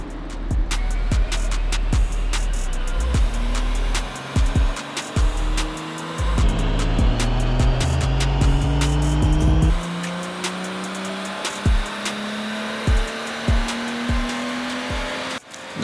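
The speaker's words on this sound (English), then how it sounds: "The engine kept blipping slash, I don't know what to call it, bit of a misfire" Tuned BMW M135i with stage 2+ tuning on a dyno, engine revving in rising pulls that keep cutting out with sharp misfiring blips and stutters, loud and close, without talk.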